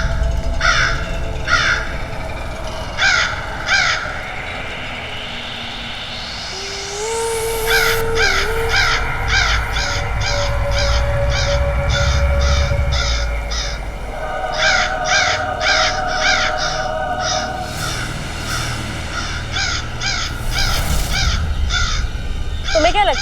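Black crow cawing in repeated harsh bursts, loud and near, spaced rhythmically over a long stretch, with a rising whistle-like tone and background ambience in between.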